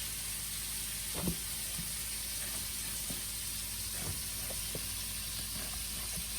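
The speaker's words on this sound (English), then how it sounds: "Can you guys hear that sizzling?" Steady hissing sizzle of bacon frying in a pan, with occasional soft pops and crackles, no one talking.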